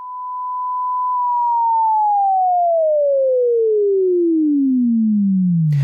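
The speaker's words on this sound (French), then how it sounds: "Voici d'abord à quoi ressemble un générateur de fréquences." A pure, steady electronic tone holds briefly, then glides smoothly downward in pitch over several seconds, ending with a click.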